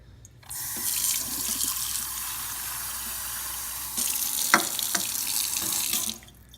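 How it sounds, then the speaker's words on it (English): Running water from a sink tap rinsing kiwi seeds in a container, a steady broadband rush that starts abruptly, continues for several seconds with a few splashy surges as water is poured out, then cuts off. "You really want to rinse these out over and over again"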